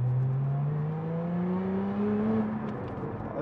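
A Lotus Emira V6 sports car engine, heard from inside the cabin, rises in one smooth, loud, steady climb of pitch as it accelerates, with no talk over it.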